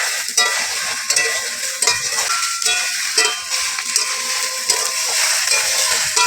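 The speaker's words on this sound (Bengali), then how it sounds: "এখন দিয়ে দেবো ভেজে রাখা সয়াবিন বড়ি এবং ঢেঁড়স গুঁড়ি। আর একটু কষে নেব," Fried soybean chunks and okra sauté with spices in a hot pan, giving a steady loud sizzle broken by repeated scraping stirs throughout.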